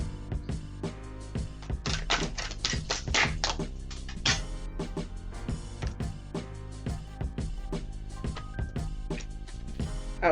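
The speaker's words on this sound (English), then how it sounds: "One more shuffle." A tarot deck is shuffled up close, a quick run of crisp riffling snaps and taps, followed by softer handling sounds.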